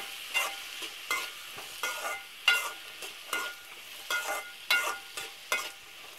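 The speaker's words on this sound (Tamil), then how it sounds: "இப்போ இதை நல்லா கலந்து விட்டுக்கலாம்." A spoon stirring carrot and potato poriyal in a pan, about a dozen evenly spaced scraping strokes with a soft sizzle underneath, close and fairly quiet.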